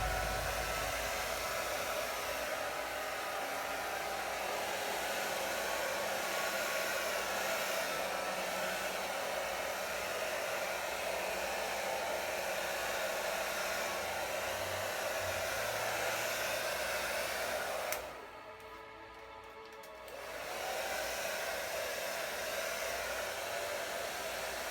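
A steady, loud blow dryer with a large head spreading acrylic paint whirs continuously, cutting out briefly for a couple of seconds before resuming its even airy hum.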